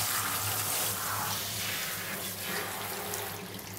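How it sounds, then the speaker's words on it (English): Steady stream of running water poured over a dog during a bath shampoo, a continuous close splashing rush that holds evenly throughout and eases slightly near the end. "tilt it forward and let the water run off the end of the nose"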